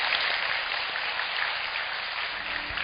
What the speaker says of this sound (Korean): 다시 한번 변결의 멘토님께 큰 박수 부탁드리겠습니다